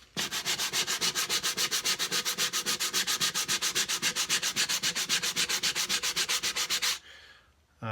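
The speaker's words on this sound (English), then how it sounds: "Now I think I'll maybe do a little bit more sanding." Hand sanding of a wooden cigar box, a fast, even back-and-forth rasp repeating for about seven seconds, close and loud, then stopping abruptly.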